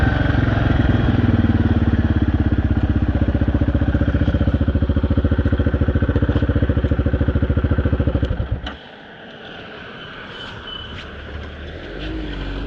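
A quad bike runs along a tar road, its engine giving a loud, steady, throbbing drone up close for about eight seconds. It then quickly drops to a much quieter low rumble with faint wind and road noise.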